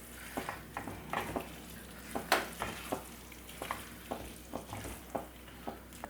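Egg roast masala sizzling in a pan while being stirred and mixed, a low steady fry with regular scraping strokes and one sharper clack, close but fairly quiet, no voices.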